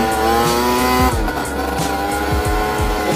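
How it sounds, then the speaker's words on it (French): Adly 50 RS 50cc quad with a Technigaz aftermarket exhaust, its engine revving loud and close in steady repeated bursts with a buzzy exhaust note, no talking. "Le pot d'échappement, c'est un technique gaz."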